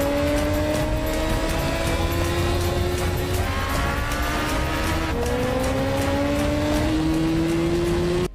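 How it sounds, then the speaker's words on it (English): A car racing along winding roads in Morocco during a Mission Impossible Rogue Nation chase, a loud sustained engine roar rising and falling in pitch through gear changes, with tire noise throughout. "Cruise was racing up winding roads with his knees scraping against the tarmac in Morocco"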